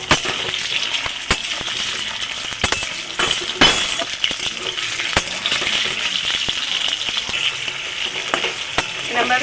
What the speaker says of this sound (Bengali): এরকমভাবে হালকা করে নেড়ে চেড়ে চিকেনটাকে ভেজে নেব।